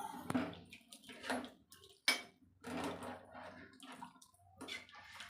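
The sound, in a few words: water poured into soaked rice for chicken biryani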